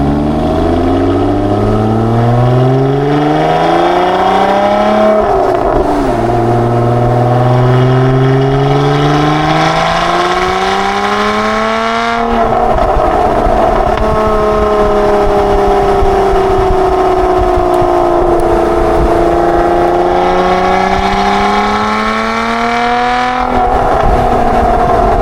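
Lotus Emira sports car engine revving hard while driving, loud and continuous, with repeated rising pitch sweeps through the gears and short dips at each shift.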